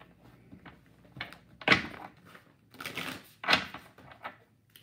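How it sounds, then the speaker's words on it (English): Shuffling a new, rarely used tarot card deck: quiet papery rustles with two sharper riffling bursts spaced a couple of seconds apart, close by and without speech. "I'm going to shuffle this new tarot deck that I rarely ever use."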